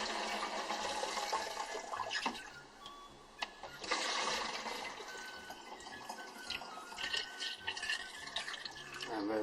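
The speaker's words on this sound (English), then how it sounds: "we start ladling it into the bottle" Makgeolli, Korean rice wine, ladled into a bottle: splashing, pouring liquid with dripping and sloshing, close and fairly steady, with a few sharper knocks of the ladle.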